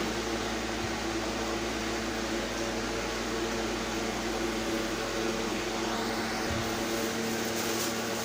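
A steady, even whoosh of blowing air from a nearby air cooler drones with a faint low hum, continuous and unchanging, with no one talking.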